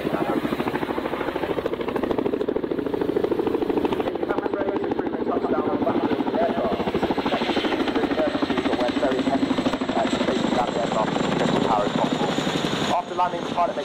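A Boeing Chinook HC6 twin-rotor helicopter flying a display at RIAT 2022, its steady heavy rotor thump and engine roar continuous and loud throughout, with a voice commentating over it.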